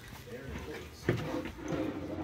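A well-built drawer in an RV slides and bumps shut once with a soft wooden knock, heard under people talking nearby.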